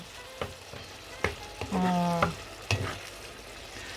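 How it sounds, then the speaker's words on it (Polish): Eggplant frying in a pan for a Turkish dish, its skin charring, with a steady soft sizzle under occasional clinks and scrapes of stirring and a brief tonal squeak, close and moderately quiet. "jak tak przysmażamy, żeby ta skórka nam się opaliła, on nam się gotuje od razu"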